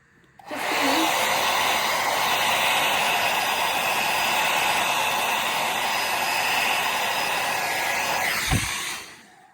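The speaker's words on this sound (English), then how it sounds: "today I'm actually going to use a hairdryer" A hair dryer roars on and blows loudly and steadily for several seconds, then clicks off and winds down.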